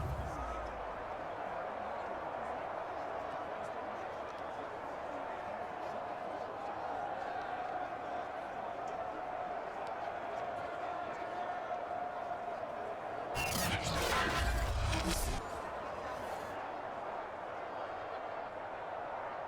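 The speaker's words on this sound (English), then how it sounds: "Listen to this crowd now." Football stadium crowd at a Steelers vs Panthers NFL preseason game during a 2-point conversion, a sustained roar under a commentator's voice, swelling into a loud burst of cheering and noise near the end.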